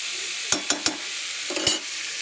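Broccoli, eggplant and beans frying in a pan give a steady sizzle under a few sharp scrapes of a spatula stirring them, about five strokes at close range.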